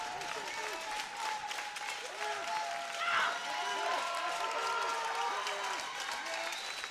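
A powerlifting championship crowd claps and cheers steadily for a Norwegian lifter, a dense, sustained wash of applause with occasional whistles and shouts, while a commentator talks over it.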